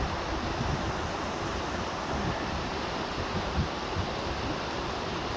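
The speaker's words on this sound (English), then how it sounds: "So I took a little bit of a detour here to come over to Jones Falls to share this with you. Pretty cool waterfall." Jones Falls, a waterfall reached off a hiking trail, pours with an unbroken, close-up rushing roar of falling water and no talk over it.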